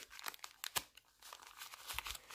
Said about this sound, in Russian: Давайте откроем вот этот пакетик.